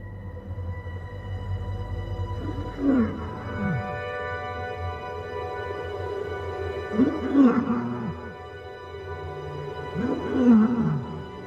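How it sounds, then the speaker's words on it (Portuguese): A weakened old lioness in the Namibian desert gives a frail, unsteady roar. Three separate roaring bouts sound at a moderate distance over a low, steady background rumble. "Este é o grito peculiar e instável das velhas leoas."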